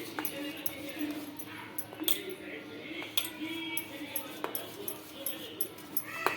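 A spoon stirs a grated fresh coconut mixture in a bowl, giving quiet irregular clinks and scrapes against the bowl over a low steady background, with no talk.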